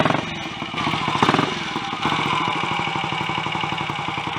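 A Royal Enfield 250 GT motorcycle engine, suffering poor performance and a little smoke between cylinder barrel and piston, runs with its alternator stator removed, giving a steady rapid mechanical pulsing that swells briefly as revs rise, loud and close with no talk.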